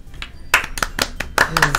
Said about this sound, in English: once I finish, I receive applause anyway